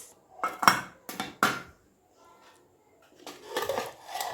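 Plates and cutlery clink and scrape during a bagara rice dinner with chicken fry and dal, a few sharp clatters early, then quieter rattling near the end, with faint voices in the background.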